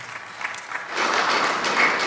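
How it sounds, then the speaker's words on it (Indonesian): Applause from a church congregation, offered as praise to Jesus, swells after about a second into steady, full clapping that fills the room and holds to the end. "Kasih tepuk tangan dulu buat Tuhan Yesus ya."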